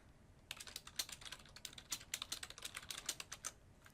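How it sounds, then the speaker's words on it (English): Computer keystrokes tapped out in quick bursts, close and fairly quiet, the clicks coming in irregular runs after a brief pause at the start with no talking. "So if I type John Adams here"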